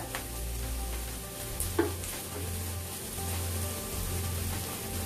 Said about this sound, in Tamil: வெங்காயத்தை நல்லா வதக்கிக்கலாங்க. வெங்காயம் வதங்கிச்சுங்க. இப்போ நம்ம இஞ்சி பூண்டு பச்சை மிளகாய் சேர்த்துக்கலாங்க.